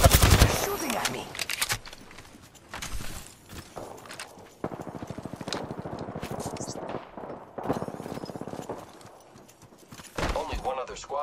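Rapid bursts of automatic gunfire in the Apex Legends battle royale game, loud and close, in repeated rattling volleys with short pauses between them and some footstep-like clatter.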